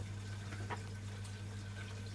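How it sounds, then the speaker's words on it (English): A Zanussi Washcraft EW800 washing machine on a cotton 40 cycle fills with water: a steady, close hiss of running water over a constant low mechanical hum, with no talking. "What's it called when a washing machine fills and stops and fills and stops"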